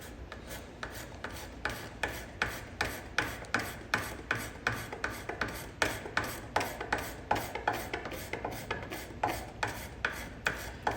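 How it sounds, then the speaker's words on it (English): A card scraper rasps across wood to clear hand tool marks while a traditional settee is being built, with steady rhythmic strokes about two per second. The scraping is close and fairly quiet. "Just coming in with a card scraper here, taking out any hand tool marks"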